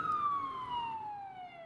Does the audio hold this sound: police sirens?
yes